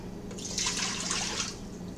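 Water is poured into a cooking pot in a kitchen, a soft splashing stream that swells for about a second and then fades, with no talk.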